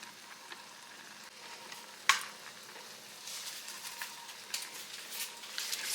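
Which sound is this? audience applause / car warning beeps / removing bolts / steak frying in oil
steak frying in oil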